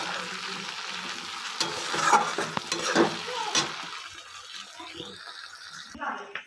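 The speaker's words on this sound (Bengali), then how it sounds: "এবার ঝোলে মাছগুলো দিয়ে দেবো" Fried fish pieces go into a simmering Bengali fish curry (macher jhol) along with the fish oil, giving a soft bubbling sizzle with clinks and stirring noises at moderate volume and no talking.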